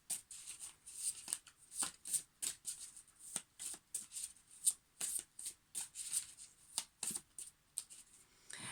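Tarot cards are riffled and shuffled by hand in a quiet room, a rapid series of crisp, close flicks and soft slaps in uneven bursts, with no one talking.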